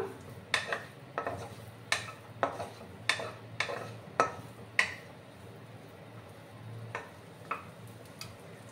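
Cashews and raisins fry in a pan, with a steady low sizzle beneath a series of sharp, regular clicks and scrapes from a utensil stirring against the metal.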